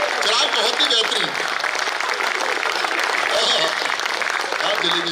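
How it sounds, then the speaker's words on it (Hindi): An audience at a Hindi comic poetry recital claps loudly and continuously in a thick, crowded burst, with voices mixed in over the applause. "भाई एक बार जोरदार तालियां"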